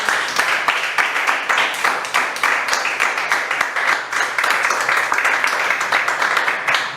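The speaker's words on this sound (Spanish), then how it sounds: "Quiero un aplauso al Señor" A church congregation applauding, dense rapid clapping sustained steadily throughout, fairly close and alone without talk.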